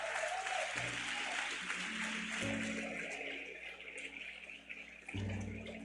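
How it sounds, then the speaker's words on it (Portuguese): Church congregation applauding during a Sunday evening service, a sustained wash of clapping heard at a distance and filling the room, with a few low voices and shifting crowd noise beneath it. "Dá um aplauso ao Senhor se você pode."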